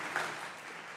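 Sparse, scattered clapping from a CPAC conference audience, a brief thin patter of a few hands rather than full applause, fairly faint and short.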